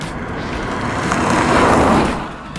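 A 2024 MINI Clubman or MINI Convertible under hard throttle, its engine note a loud, steady broadband roar that swells toward the middle and eases slightly near the end.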